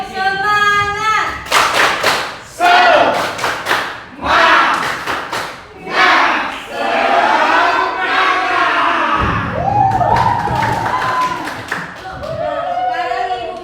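A school class claps out a spirited 'tepuk semangat' routine in rhythmic bursts of hand claps and loud shouted chanting, the whole group close and energetic with brief pauses between phrases.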